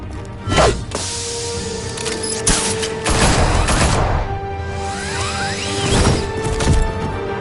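Loud gunfire rings out in Batman: The Telltale Series. Several bursts and sharp shots mix with crashing impacts and metallic clatter, all close and intense.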